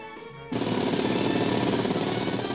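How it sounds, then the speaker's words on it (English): A loud cartoon jackhammer kicks in abruptly after a quieter moment, hammering in a rapid, continuous, dense rattle that holds steady to the end. "This is a jackhammer!"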